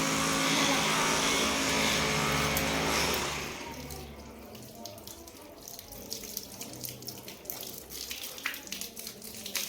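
A household tap runs in a steady, loud gush during weekend cleaning, then is shut off partway through, leaving quieter scattered clatter and drips.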